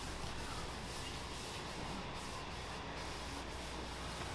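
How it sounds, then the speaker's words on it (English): Steady, continuous rubbing hiss of sandpaper worked across a steel surface, blending it before a patina is applied, close and even throughout with no talk. "So if I agitate it with the sandpaper and blend it, then the patina will take easier."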